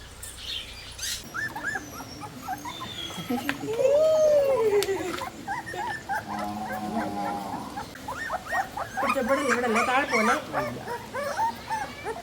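Puppies whimper and yip in high, thin cries, some close and some farther off, mixed with a person talking over them.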